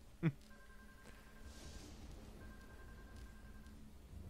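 A telephone rings in the video game Deadly Premonition, two faint sustained electronic ring tones separated by a short gap, low against background hum after a brief thump at the start.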